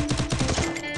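Rapid bursts of Free Fire gunfire, several quick shots in a tight rhythm with some music-like tones underneath, fairly loud and close.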